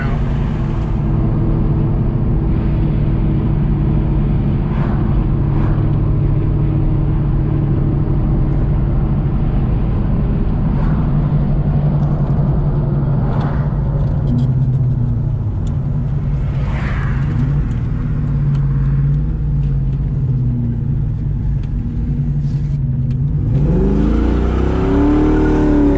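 Nitrous-injected New Edge car engine revving hard during a burnout, a loud continuous droning roar held for a long stretch with slight pitch wavering, then a rising rev surge near the end.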